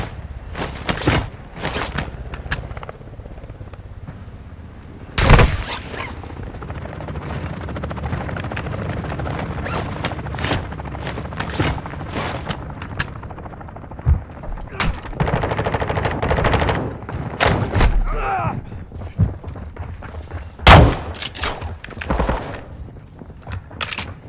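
Video game battle with heavy gunfire: rapid machine gun bursts and loud single shots cracking near and far, with booms and a helicopter in the mix, continuing throughout under the game's dense combat noise.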